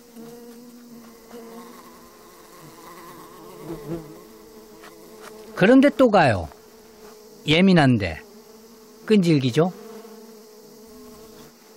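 Loud buzzing from giant hornets around a nest comes in three sharp bursts, close and intense, over a steady low drone, with brief talk early on.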